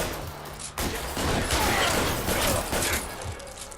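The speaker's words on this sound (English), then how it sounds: "am I getting shot at?" Gunfire erupts during a shootout in the L.A. Noire video game, a dense, loud barrage of overlapping shots and clatter that briefly drops out near the start before resuming and continuing steadily.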